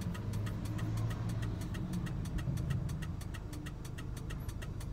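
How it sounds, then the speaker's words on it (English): A car engine hums steadily from inside the moving vehicle, with a regular clicking tick like a turn signal running through it and no one speaking. "Sorry, I'm driving"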